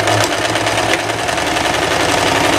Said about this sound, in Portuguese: você vai passar uma costura reta aqui na manga e ao mesmo tempo passar na overlock